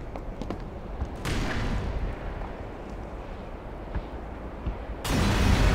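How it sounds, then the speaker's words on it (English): Grenade blasts in the video game Black Mesa: two deep, booming explosions, one early and a louder one near the end, each followed by a sustained rumbling roar. "drop a little nade down there"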